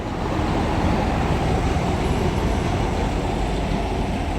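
Class 185 unit 185111 pulls away from Stockport station on the West Coast Main Line Manchester branch, a steady, loud rumble of engine and wheels that runs the whole time with no voices.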